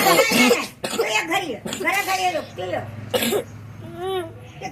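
A child coughs several times in harsh, close bursts, with whimpering and speech-like vocal sounds between the coughs.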